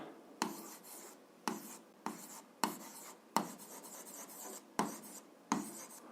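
A pen scratches across paper while writing out an algebra formula for direct proportionality, in short rasping strokes about every half-second to second, close and fairly quiet, with no talking.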